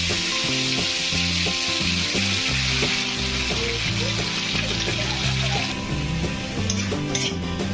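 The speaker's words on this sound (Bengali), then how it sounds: "বাটাটাকে খুব সুন্দর করে ভাজতে হয়।" Pumpkin leaf paste fries in hot oil in a kadai, sending up a continuous loud sizzle with repeated scraping and clinking of a spatula against the pan.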